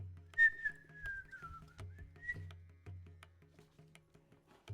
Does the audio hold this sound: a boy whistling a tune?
yes